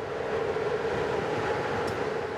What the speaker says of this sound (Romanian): primul tren special destinat muncitorilor sezonieri pornește spre Austria